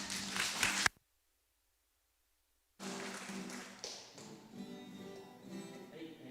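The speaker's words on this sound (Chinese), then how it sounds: "给他鼓掌一下" Audience applause at a graduation ceremony, a burst of clapping that cuts off abruptly, then a silent gap and more clapping and crowd noise resuming over the last few seconds.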